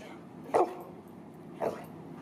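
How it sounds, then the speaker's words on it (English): A dog gives two short, fairly faint barks about a second apart, with quiet background between them and no talking. "Ah, yes. More barking."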